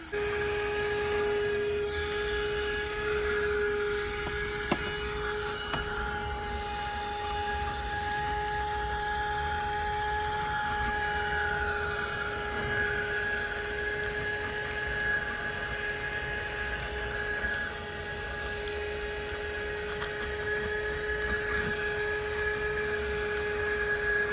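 A handheld car vacuum cleaner runs continuously inside a car, sucking up dust and dirt with a steady whining hum and occasional faint rattles of debris.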